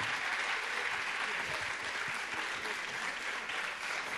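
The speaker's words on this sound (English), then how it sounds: "So, Bobby, applause for you." Audience at a technology conference on future cities breaks into applause, a dense, steady clapping that fills the whole stretch, moderately distant.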